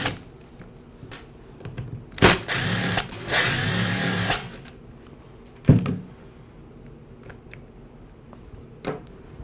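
Screws being backed out of the plastic handle assembly of a Ryobi string trimmer, heard as a loud burst of power-driver whir lasting about two seconds, with short clicks and taps before and after in a quiet room.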